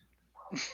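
A single short, sharp sneeze bursts out at the end after a faint lead-in breath, fairly close and alone.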